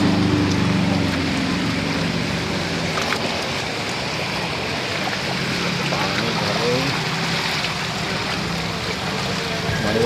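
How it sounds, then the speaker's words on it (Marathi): Floodwater rushes fast along a road that has filled like a river, a steady, loud wash of flowing water that holds throughout, with voices talking over it. "पाणी बघा किती स्पीडने जातो."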